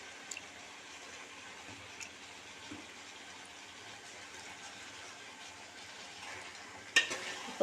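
Chicken gravy fries in a pan while being stirred, a steady close sizzle and soft scraping throughout, with a couple of sharper clinks of the spoon near the end.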